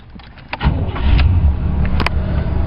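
A car's starter cranks briefly before the engine catches and settles into a loud, close idle rumble ahead of a road test following power steering and V-belt work, with a couple of small clicks near the end.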